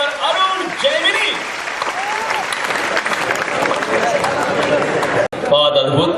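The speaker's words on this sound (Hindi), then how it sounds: "जरा जोरदार ताली की गड़गड़ाहट से निमंत्रण दें" Loud applause from the audience at a Hindi poetry gathering (kavi sammelan), dense clapping throughout with overlapping voices and crowd noise, cut briefly near the end before resuming.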